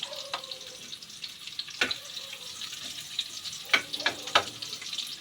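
Ginger sizzling as it sautés in hot oil, a steady frying hiss with a few sharper crackles and spatters, close and moderately loud with no talk.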